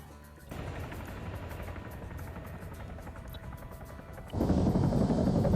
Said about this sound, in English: So now the helicopter might be flying over it